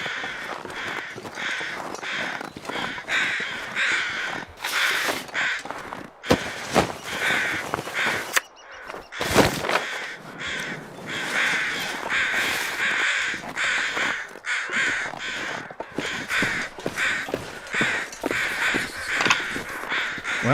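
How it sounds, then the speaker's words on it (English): Several crows cawing in repeated bursts, loud and close, with overlapping calls from multiple birds and steady outdoor background noise throughout. "Multiple crows."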